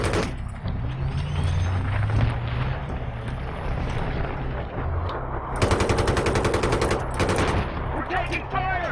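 Heavy automatic gunfire in Battlefield 3 roars loud and sustained alongside rumbling vehicle noise, with dense bursts of rapid shots in the second half and faint voices underneath.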